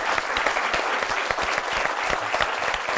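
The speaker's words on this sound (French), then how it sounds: "cher public, applaudissez-vous vous-même." A studio audience at a French live show claps loudly and continuously, a thick, even wall of applause with no break throughout.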